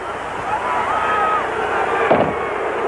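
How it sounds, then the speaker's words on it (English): A firecracker goes off inside the broadcast booth at a Cowboys at Eagles football game: one sharp, loud crack near the end, rising over a steady, dense crowd roar. "There's a firecracker. Goes off in our booth."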